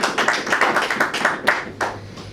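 A church congregation claps in a quick, slightly uneven burst, many hands close by and fairly loud, tapering off after about two seconds with no voices on top.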